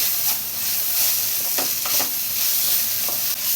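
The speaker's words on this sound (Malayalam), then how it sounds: "ഹൈ ഫ്ലെയിമിൽ വെച്ചിട്ട് എല്ലാം കൂടെ നന്നായി തന്നെ ഒന്ന് മിക്സ് ചെയ്തെടുക്കാം" Green tomato and coconut thoran stir-frying on high flame makes a continuous loud sizzle and hiss, with a few scraping stirs scattered through.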